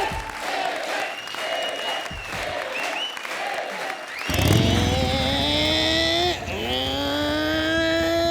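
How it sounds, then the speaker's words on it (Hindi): A motorcycle rides around a small well-of-death stunt pit while a crowd applauds and cheers loudly; the engine rises to a steady, revving whine in the second half, looping and shifting pitch as it circles. "इतना छोटा सा कुआं, इतना बड़ा बाइक"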